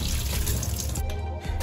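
Cold tap water runs over green chillies and a tomato being washed, a steady close trickle and splash that carries on alone and briefly dips near the end.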